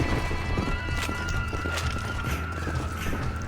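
Horse hooves clip-clop steadily through a video-game desert setting, a continuous galloping rhythm at moderate loudness with scattered clatter over it.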